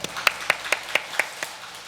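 A church congregation claps in unison during a Sunday worship service, about eight sharp, evenly spaced claps in a brisk steady rhythm, heard clearly with no voices over them.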